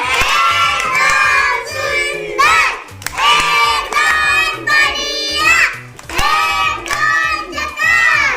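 A group of children at a classroom puzzle activity cheer and shout loudly in repeated bursts for a winning classmate, energetic crowd noise with brief pauses between waves.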